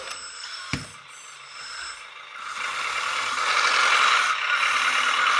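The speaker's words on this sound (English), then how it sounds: "it's a skid loader. It skids side to side." A radio-controlled CAT skid steer loader, a LESU LT5H model, shuffles side to side with a sharp click near the start, then a rising whir and rattle of its motors and tracks that grows louder and steadier.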